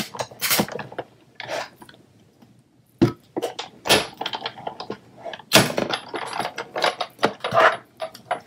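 Stitched rectangle dies run through a die-cutting machine, giving a series of loud, irregular mechanical clunks and grinding clicks close by, with short pauses between bursts.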